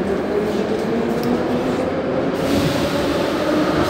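A Moscow metro train bound for Pechatniki runs along the track, giving a steady close rumble and hiss with a faint tonal whine, brief and continuous without talk.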